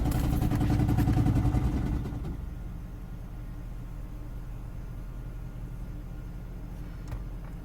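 A hybrid car's engine, not started for weeks, runs loudly with a rough clattering drone for about two seconds, then drops to a quieter, steady idle hum that continues to the end.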